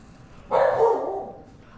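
A single short bark from a puppy, close and clear, rising suddenly out of quiet and fading within a second.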